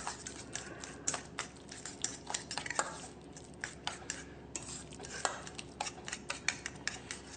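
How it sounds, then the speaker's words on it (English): Olive oil and other ingredients are mixed in a bowl, with quiet, irregular clicks and scrapes from the utensil against the bowl over a soft, steady background. "I'm going to go ahead and just mix all those ingredients up here"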